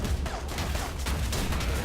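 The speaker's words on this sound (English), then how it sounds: "Oh, artillery! there goes the artillery!" Artillery fire in the real-time strategy game Tooth and Tail, a dense, continuous barrage of booming blasts and crackling explosions rolling on loudly without a break.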